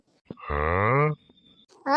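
A cow gives one long, loud, close moo lasting about half a second, followed by quiet with faint scattered sounds and a short burst of noise at the end.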